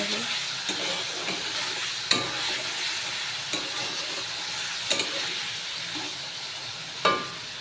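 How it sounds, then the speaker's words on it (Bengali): Chopped onion frying in oil tempered with bay leaf and whole cumin, a steady soft hiss and sizzle with occasional sharp spatula knocks against the pan, close and without talk. "কুচানো পিঁয়াজটা দিয়ে একটু ভেজে নেব হালকা ভেজে"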